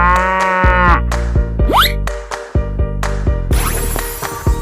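Cartoon cow mooing in a 3D animal slide game, a loud close moo over bouncy game music with sound-effect boings and swoops.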